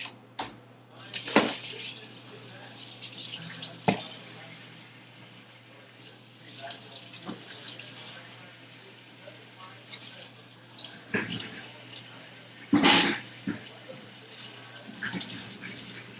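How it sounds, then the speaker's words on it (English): Raw ribs are rinsed under running water from a kitchen tap, with intermittent splashing bursts and gushes over a low background hum, while people talk nearby. "Rinse the ribs? Just rinse them."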